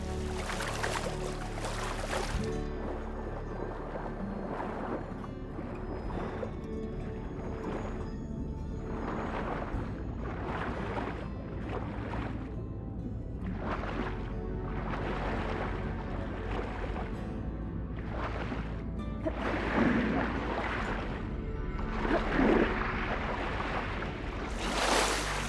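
Water washes and laps in Horizon Forbidden West as waves roll in with a steady surf-like wash. Wind and faint game ambience sit alongside it, and there is no talking.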